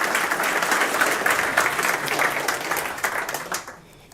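Conference audience applauding during a live opening keynote at a tech event, a dense sustained wash of clapping that fades out near the end.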